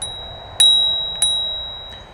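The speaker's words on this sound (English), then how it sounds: "The bike came with this mechanical bell." A mechanical bell on a Haoqi Black Leopard eBike rings three times with bright metallic dings spaced about half a second apart, each tone lingering and slowly fading, loud and close.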